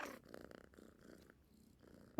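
A cat purrs softly in a video game, a low, faint rumble pulsing in short cycles, quiet and close, ending in a brief sharper sound.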